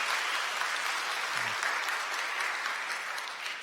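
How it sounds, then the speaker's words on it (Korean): A church congregation applauds in welcome during a Sunday worship service, a steady, dense wash of many hands clapping that holds for several seconds and fades slightly at the end, with no talking over it. "여러분들 환영의 박수 부탁드립니다"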